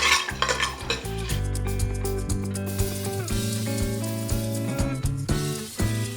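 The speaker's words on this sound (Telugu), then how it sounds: "ఇప్పుడు ఈ పోపుని ద్వారగా వేయించుకుని" Mustard seeds, lentils and cumin sizzle and crackle in hot oil as a tempering, with scraping stirs. Music plays prominently over the frying.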